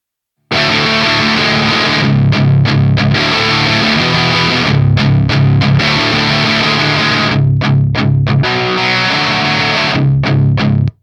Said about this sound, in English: So that's sort of the middle of the road, higher gain channel.